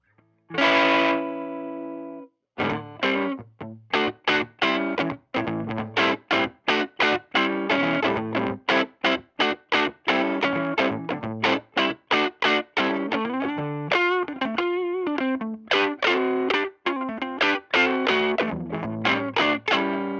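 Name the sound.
electric guitar through overdrive pedal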